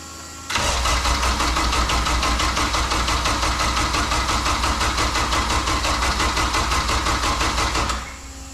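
The engine of a K-swapped Honda CRX cranks briefly, then runs with a loud, steady, rough-sounding idle for about seven seconds before it cuts off.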